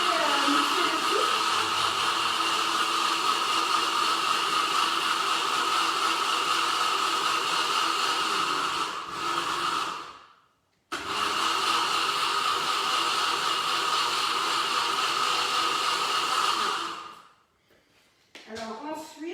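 A blender mixes ingredients for a weight-loss recipe with a loud, steady, close whir. It runs for about ten seconds, cuts out briefly, then runs again before stopping.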